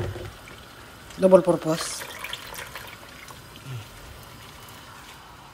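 Soaked rice noodles (bihon) drop into a boiling pot with a short burst of splashing and watery sloshing, then fade to a low simmering background while someone talks over it.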